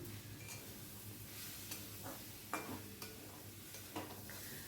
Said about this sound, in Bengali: নারকেলটা আমি ভাজা করব চিনি দিয়ে নারকেলটা ভাজা ভাজা করে নেব